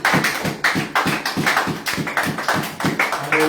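A church congregation claps in steady unison for the word of God, sharp hand-strikes repeating at a quick, even rhythm, loud and close, with no voices.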